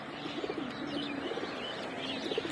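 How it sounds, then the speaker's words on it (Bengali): Pigeons coo softly at a moderate distance in an open spot, low repeated throaty calls over a constant faint background hiss. "তো এই যে কবুতরগুলো, আচ্ছা কবুতরগুলো আগে বের করি।"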